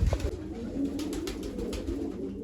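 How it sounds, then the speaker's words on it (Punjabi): Low, soft cooing from a red pigeon close by, a continuous murmuring rumble with faint rustling. "ਰੱਤਾ ਕਬੂਤਰ ਫੜ ਲੈਨੇ ਆ"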